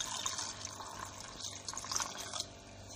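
Water poured over salted soya chunks in a bowl to soak them before making puttu, a soft, steady trickling and splashing of liquid at close range with no talk.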